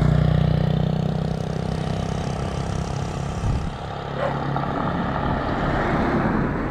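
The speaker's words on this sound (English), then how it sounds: "There's busy traffic on the road today." Steady roar of busy road traffic in southern Thailand, engines droning and vehicles passing close, a continuous low rumble that dips briefly midway, with no voices.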